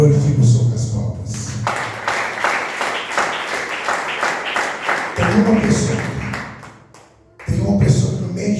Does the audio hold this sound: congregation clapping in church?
yes